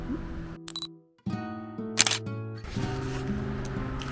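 A single-lens reflex camera shutter fires once with a sharp mechanical click at about 640 ISO for a close photo of hydrangeas, standing out over steady background music.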